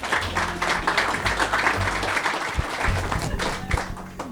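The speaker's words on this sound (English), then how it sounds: "Please give Tom and Saad a round of applause." An audience at an evening event in a newsstand store applauds, a dense, steady clapping that fills the space for several seconds with a few voices mixed in.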